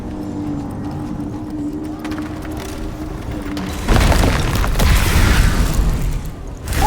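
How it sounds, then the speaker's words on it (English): Heavy booming footsteps in the video game Tails of Iron 2: Whiskers of Winter, loud low thuds building to a dense rumbling stretch under game ambience. "The booming footsteps that woke him this time were nothing like those of his"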